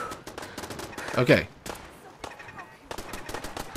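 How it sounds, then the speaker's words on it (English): Gunfire in Fallout 4, with bursts of rapid shots and a sharp louder volley in the middle, set against crackling noise. A person talks briefly over it. "I hear gunfire."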